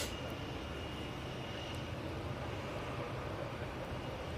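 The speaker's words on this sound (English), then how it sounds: "We do have an EasyJet coming over as well." An EasyJet airliner passes overhead at Manchester Airport as a steady, broad, distant jet roar that stays even throughout, with no talk.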